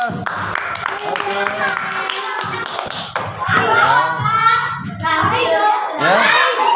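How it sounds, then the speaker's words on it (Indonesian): Audience applause after a group's presentation at a cardboard puppet show, clapping swelling loud and dense in bursts over the second half, with children's voices and talk mixed in beneath. "Beri aplaus."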